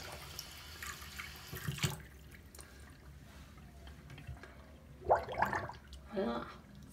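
Water runs from a tap into a freshly unclogged kitchen sink and drains away, a soft, steady splashing with a few louder gurgles and clunks near the end, and a voice talking at times.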